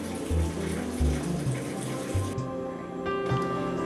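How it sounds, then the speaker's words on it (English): Hands being washed with soap under a running tap of warm water, a steady splashing stream with low rumbling tones, continuous and close throughout. "I'm just going to wash my hands really quickly."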